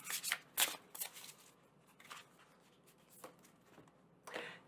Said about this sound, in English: I'm going to pull one more card because I shuffled.